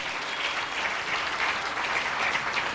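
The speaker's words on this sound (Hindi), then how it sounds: "ताली बजाएंगे जोर से" A church congregation claps loudly and steadily at a Holy Communion Sunday service, a dense, continuous burst of applause filling the room.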